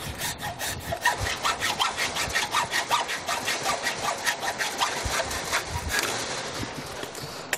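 Rhythmic back-and-forth rasping of a hacksaw cutting through the metal rack of a sliding gate opener, steady strokes close by with no talking.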